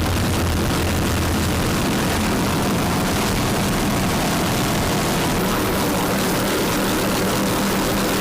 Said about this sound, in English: it's a 38-foot Fountain with Vortec engines and Bravo drives